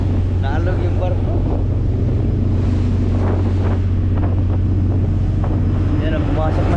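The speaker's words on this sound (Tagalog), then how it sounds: "Oh no, inabot kami ng lakas ng hangin." Strong wind roars across the microphone with sloshing waves against a rocking ship at sea, a loud continuous rumble with splashes of water coming aboard throughout.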